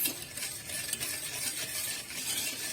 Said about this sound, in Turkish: şekerini karıştırıyorum biraz